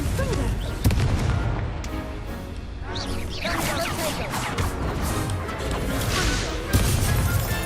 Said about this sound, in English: Incendio! Confringo!